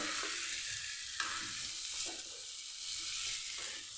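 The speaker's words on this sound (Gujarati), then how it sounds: "અહીંયા હવે આપણે ફણસીને પણ ઉમેરી દઈશું સરસ સાતળી લેતું આપણે" Green beans and spiced potatoes sautéing together in a pan, giving a steady, close sizzle with soft stirring scrapes throughout and no talk.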